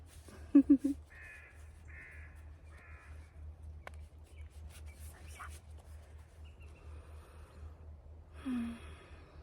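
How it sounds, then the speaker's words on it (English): Several crows caw at a distance in a short series of harsh calls, over a steady low hum and faint outdoor background. "Oh, the crows. Ravens? Not sure."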